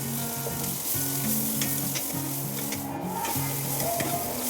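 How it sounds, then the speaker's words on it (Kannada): Chopped onions sizzle and crackle steadily in hot oil with bay leaf, cardamom, cloves and cinnamon, a close, continuous frying hiss with occasional stirring scrapes and no voices. "ನೆಕ್ಸ್ಟ್ ಕಟ್ ಮಾಡಿರೋಂಥ ಈರುಳ್ಳಿ ಹಾಕಿ ಫ್ರೈ ಮಾಡ್ತಾಯಿದ್ದೀನಿ"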